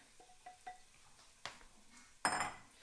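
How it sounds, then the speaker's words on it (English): Cooked butternut squash mixed in a pan for mac and cheese, heard as a few soft clinks and scrapes of a utensil against the pan, ending in a louder, brighter scrape, quiet and close with no talking. "I like to put in the butternut squash first before we put in the milk, because I like to just mix all of this together"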